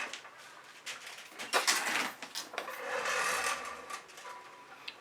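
Scraping of fluid acrylic paint across a tilted pour-painting surface with a scoop or shovel tool: close, rasping strokes that swell and fade over several seconds, with one longer sustained drag in the middle, no talking.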